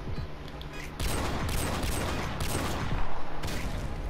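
Rapid bursts of video-game gunfire, a dense crackling fusillade that starts abruptly after a quieter first second and continues steadily at close range, with no talk over it.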